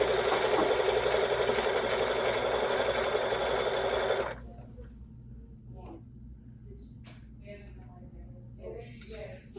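A Bernina sewing machine stitches a fabric border strip for a quilt with a fast, steady mechanical whir lasting about four seconds, then stops abruptly, leaving quiet room tone with a voice speaking.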